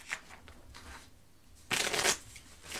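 Playing cards are shuffled close by in quiet soft riffles, with a louder, denser riffle burst near the middle.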